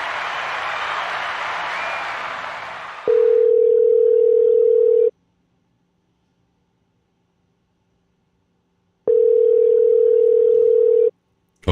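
A telephone ringing tone on a call: after a burst of broadband noise, two loud, steady ring pulses of about two seconds each, separated by a long silence.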